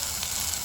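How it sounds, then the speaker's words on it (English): Fiddleheads and wild onions sizzling in butter in a pan, a brief soft crackling hiss heard on its own. "you can just hear them sizzling in the pan with that butter"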